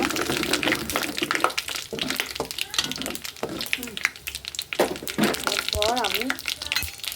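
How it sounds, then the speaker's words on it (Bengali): Five-spice seeds (panch phoron) and bay leaf sizzle and crackle in hot oil for a winter khichuri, steady frying spatter close up while someone speaks over it. "এখন আমি পাঁচফোড়ন আর তেজপাতাটা দিয়ে দিলাম।"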